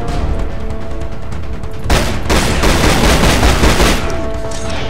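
Loud gunshots ring out in The Chronicles of Riddick: Escape From Butcher Bay, a quieter opening giving way to a sustained, heavy burst of rapid fire that dominates before easing near the end.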